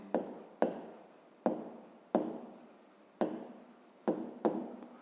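Pen strokes of a hand writing numbers in a maths exercise, seven sharp taps each trailing into a short scratchy scrawl, close and fairly quiet with no talking.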